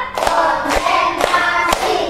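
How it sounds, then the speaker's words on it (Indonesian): A teacher leads a primary-school class through a counted clapping routine, producing four loud, evenly spaced group claps about half a second apart, each a sharp thump over a steady murmur of voices. "tepuk satu, tepuk dua, oke, tepuk tiga, tepuk empat"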